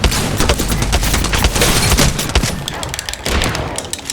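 Rapid bursts of automatic gunfire in the battle royale shooter Apex Legends, loud and close, with dense overlapping shots and impacts throughout and no voices.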